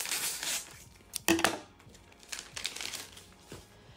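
Scalp tape being cut from its roll for a glueless lace wig install gives a brief crinkly crackle, with one sharp snip-like burst near the middle amid soft rustling, close and fairly quiet.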